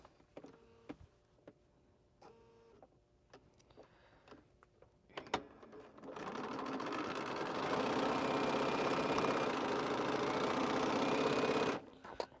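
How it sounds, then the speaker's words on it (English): A sewing machine stitches a quarter-inch seam during a paper-piecing quilting session, a steady loud whirring run of about six seconds that follows some scattered handling clicks and taps and stops abruptly. "I'm just gonna sew a 1/4 inch seam now."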